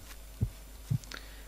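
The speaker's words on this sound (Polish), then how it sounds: "Mamy nasze bicie serca po prawej, w górnym rogu." A heartbeat sounds in a horror video game, two deep, soft thumps about half a second apart, low and muffled against a quiet background hum.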